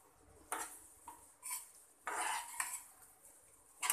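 Semolina is spread into hot ghee for suji halwa, with a few bursts of scraping and clinking from a metal spoon against the pan, separated by quiet gaps and recorded up close.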